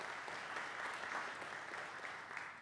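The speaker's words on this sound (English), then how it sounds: "Sam, let's give Sam a round of applause." Steady applause from an audience at a scholarship recipients ceremony, fairly faint and distant, a continuous wash of many hands clapping without pause.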